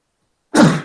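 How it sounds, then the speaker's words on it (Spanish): A single abrupt sneeze from an adult lecturer, starting suddenly after silence and tailing off over about half a second, close and fairly loud. "Estornudé, qué pena."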